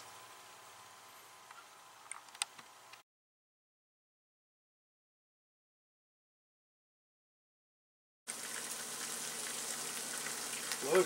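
Poor man's steak patties fry in a pan with a steady, fairly faint sizzle, broken by a long silent gap before the crackling returns a little louder.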